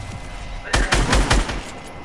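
A short burst of rapid video game gunfire cracks out in a quick series of loud shots after a moment of quieter background.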